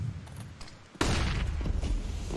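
A flashbang grenade in the CS:GO video game goes off with a sudden loud burst after a quieter stretch of game noise, then a sustained bright ringing roar fills the rest of the moment.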